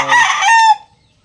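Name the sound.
young gamefowl stags crowing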